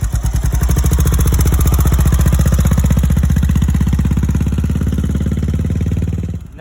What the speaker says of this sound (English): kick it into first gear, and now ease the clutch out very slowly while giving it a little bit of gas